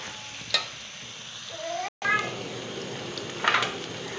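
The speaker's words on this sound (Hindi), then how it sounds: "इसको अच्छी तरह से फ्राई करना है, गोल्डन हो जाए ब्राउन आपके प्याज।" Onions frying in a pan for fish curry while being stirred with a spoon, a steady sizzle with scraping stirs and a few sharp clinks, briefly cut off midway, with a faint voice in the background.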